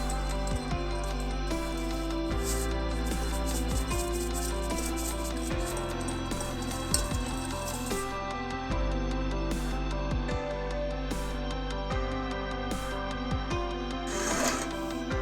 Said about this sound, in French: Battre le sucre avec les œufs.